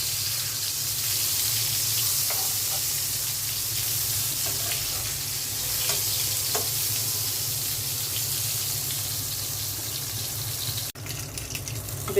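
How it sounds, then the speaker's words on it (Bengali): Eggplant slices rubbed with spices keep frying in oil as they are turned over, giving a constant close hiss and sizzle with faint occasional pops and a small clatter toward the end. "বেগুনগুলো উল্টে দিচ্ছি।"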